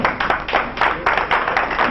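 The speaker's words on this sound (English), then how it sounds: "More applause for our father, Chief Henry Kusumu, Power Capital of Lagos." An audience at a Lagos State peace committee event claps loudly and continuously, with dense, fast, overlapping hand claps that come in slight pulses close to the microphone.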